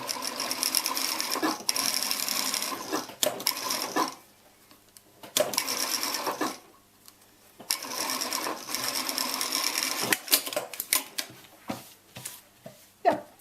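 Sewing machine stitching a yin yang pillow cover, with close, loud bursts of rapid mechanical whirring that stop and start several times, separated by short quiet pauses.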